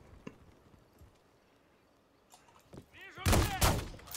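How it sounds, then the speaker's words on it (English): Gunfire from Call of Duty Modern Warfare 3 breaks out near the end, a burst of loud, close shots after a few quieter thuds and faint background noise. "they are shooting behind the wall"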